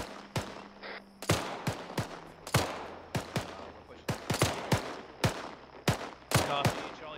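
Sharp, loud rifle shots crack out irregularly during a field training exercise, some close together and some spaced apart, each with a short echoing tail, and a faint voice can be heard between them.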